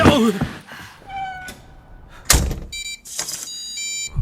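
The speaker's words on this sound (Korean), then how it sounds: "왜 문을 닫고 그래요?" A door shuts with a sharp thunk partway through, surrounded by shorter knocks and a sustained tonal hum, with no one speaking.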